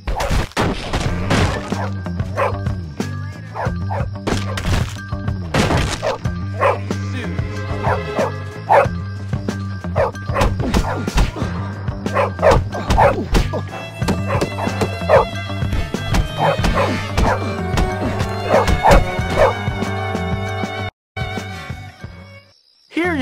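Dog barking and yipping in the video game Bully, repeated barks mixed with thuds and game music, with brief character voices in between.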